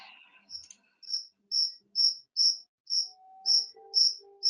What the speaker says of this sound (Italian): Sì, e cerco il grillo. Si sente.